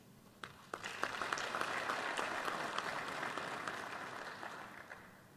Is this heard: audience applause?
yes